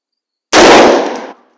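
A Browning BAR semi-automatic rifle in .30-06 fires a single loud, sharp shot close by, its blast ringing out and fading over about a second with no talk.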